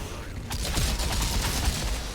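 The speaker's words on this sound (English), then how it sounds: "Grenade at your feet." A grenade blast in the co-op shooter Outriders, a sudden loud burst followed by dense, sustained combat noise and rumbling gunfire-like clatter that fills the rest of the moment.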